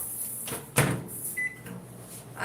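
A microwave oven runs while ganache heats for a cake, with a cupboard or door clunk, a short electronic beep and low humming under it, all close by and with no talking.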